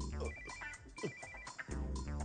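A telephone rings with a repeated electronic tone in a film scene, fairly quiet and mixed with other sound, with no talk over it.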